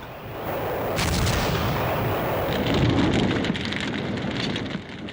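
Heavy WWII battlefield firing from tanks and artillery, with a sharp blast followed by a dense rolling rumble and crackling reports that carry on for several seconds at a distance.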